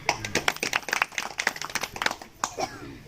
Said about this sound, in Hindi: सोनी जी के लिए जोरदार तालियां।